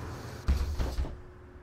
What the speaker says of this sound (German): Einmal die Tür zu machen